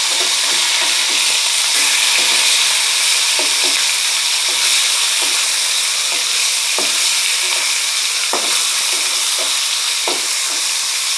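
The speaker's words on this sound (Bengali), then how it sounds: "মাছ ভাজা করছি।" Fish fries in hot oil with a loud, constant sizzle, broken by scattered scraping taps of a utensil stirring or turning the pieces, all close up and without speech.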